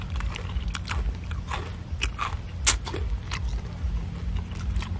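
Someone bites into and chews homemade KFC-style crispy fried chicken drumsticks, with crunchy bites and chewing up close over a low background rumble and no talking.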